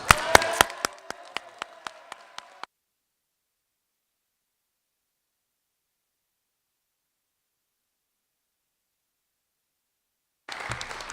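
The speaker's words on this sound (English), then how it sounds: "Let's give it one more round of applause." Applause from a graduation audience at an adult education ceremony: a short burst of scattered, distinct claps that stops abruptly, then a long silent gap before clapping resumes briefly at the end.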